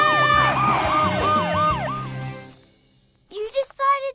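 A cartoon character mimics a blend of fire engine, ambulance and police car sirens, with wailing up-and-down tones and layered horns over music, then a short pause before a brief sung flourish.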